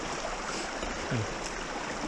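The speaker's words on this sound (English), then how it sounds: "I want y'all to see this little waterfall running in" A small waterfall spills into a creek, making a continuous, even hiss of falling and running water at moderate distance, with one faint brief sound rising over it midway.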